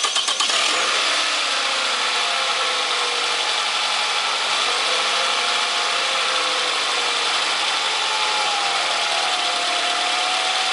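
A car engine cranks and catches near the start, then runs loud and steady at a close idle with a faint rising whine for the rest, during a fault check on a car air conditioner blowing hot air.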